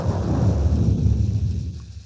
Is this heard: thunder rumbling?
yes